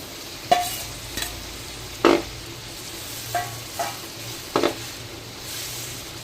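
Tomatoes and garlic are stir-fried in a pan for street-style pav bhaji, with about six sharp spatula scrapes and knocks against the pan over a steady, soft sizzle.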